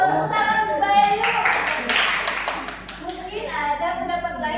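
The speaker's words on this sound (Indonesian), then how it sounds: "Tepuk tangan untuk Mbak Yayu." Students in a classroom clap for a classmate, a short burst of quick clapping from a small group, mixed with voices talking over it.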